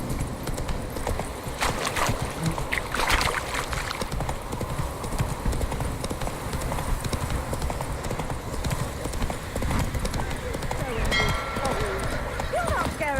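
Hooves clip-clop steadily at a riding pace on a horse in a video game hunt, with an occasional whinny and game voices speaking over the rhythmic footfalls.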